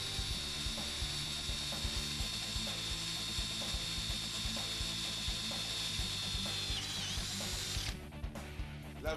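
Prototal drill bit boring at 1400 RPM, a steady loud mechanical whir with dense rapid ratcheting clicks throughout, shifting to harsher chattering near the end.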